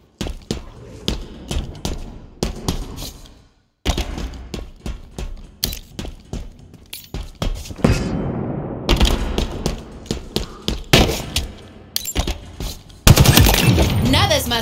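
Bursts of rapid automatic gunfire in Halo Infinite rattle in quick strings, separated by brief pauses, with occasional voice lines over the loud, punchy shooting.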